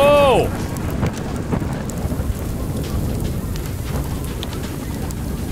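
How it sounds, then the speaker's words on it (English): Thunderstorm in the video game Far: Lone Sails, with steady heavy rain drumming on surfaces and a deep rumbling thunder bed throughout, opening with a brief tonal in-game chime. "let's not have the sails up in the storm"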